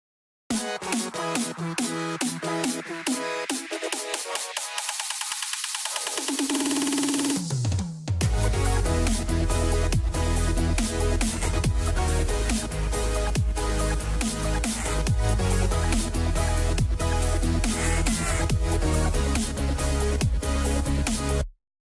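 Loud, dense mastered electronic music made in FL Studio rises through a filtered build-up with a sweeping tone, then crashes into a full, heavy section with steady driving beats.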